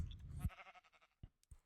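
Sheep in the video game Minecraft bleat in a short burst, followed by a few soft, brief thumps and clicks of in-game activity.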